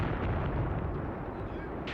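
Mortar and artillery fire in the Graviteam Tactics wartime strategy game: a continuous dense rumble of distant barrages and booming impacts, steady and loud throughout with no distinct single shots standing apart.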